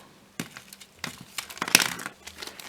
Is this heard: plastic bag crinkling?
yes